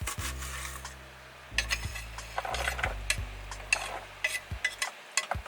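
Whole garlic cloves and white onion dropped into a pan, with scraping and rubbing stirring strokes over a soft fry, faint and close, with a low hum beneath and no talk.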